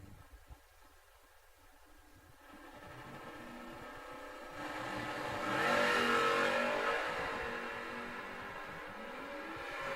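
Super Stock drag racers, an automatic Firebird and a Camaro, rev and launch at a drag strip, engines rising from a low rumble to a loud roar midway and then holding a steady howl.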